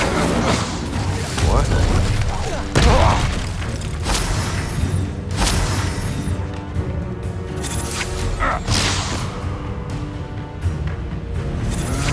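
Hogwarts Legacy duel with Confringo and Incendio spells going off: booming fiery blasts, whooshes and crashing impacts layered over dense game music and effects, one after another across the stretch.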